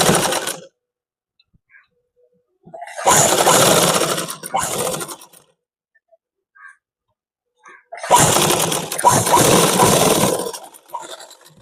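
A sewing machine stitching around a school shirt collar, two long bursts of fast mechanical whirring separated by silent pauses while the fabric is turned, loud and close, with no talk.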